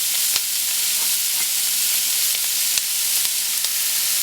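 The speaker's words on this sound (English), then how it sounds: "to the empty pot, we're going to add the Trinity that we cut up by hand earlier" Cajun trinity vegetables for chicken sauce piquante hit a hot empty pot and fry with a loud, steady sizzle, broken by a few sharp clicks of stirring.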